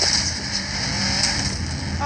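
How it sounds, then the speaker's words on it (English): A loud car engine runs at a steady growl, close and continuous, with a slight rise in revs and no voices over it. "this is a pretty loud car."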